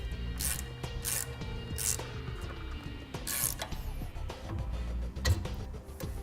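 Tightening fifth wheel hitch hardware under a 2017 GMC or Chevy truck with a 7/32 Allen socket and a 9/16 wrench: a few sharp metallic clicks and ratchet ticks, with some scattered clanks between them.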